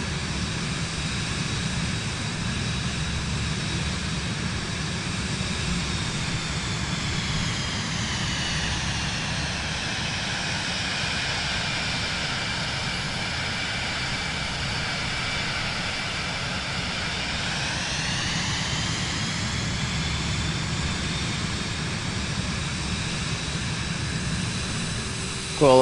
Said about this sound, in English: Cool little plane.